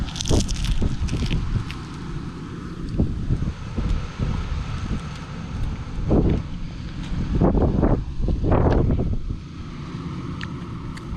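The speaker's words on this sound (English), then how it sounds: "Wind is blowing." Wind gusts across an open soybean field, buffeting loudly against the microphone in uneven surges with rustling bursts throughout.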